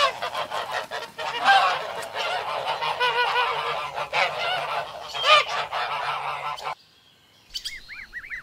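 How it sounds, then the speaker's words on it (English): A flock of geese honks continuously, many overlapping calls from fairly close by, ending in a brief pause and a final few honks. "Goose."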